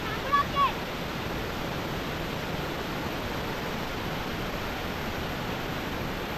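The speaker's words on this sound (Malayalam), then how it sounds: "അപ്പോൾ എല്ലാവരും ഈ വെള്ളച്ചാട്ടത്തിൻ്റെ അടുത്ത് ഇരിക്കുകയാണ് കേട്ടോ." A forest waterfall sends out a steady, rushing roar of falling water close by. A couple of faint short sounds appear at the start, then the noise stays flat and unbroken.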